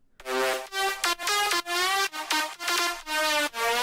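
Bright, buzzy synthesizer lead playing a short staccato melody of clipped notes with brief gaps, loud and alone.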